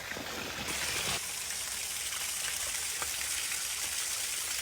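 A waterfall pours with an eternal flame burning inside it, a steady broadband rush of falling water splashing continuously, close and even throughout with no voices.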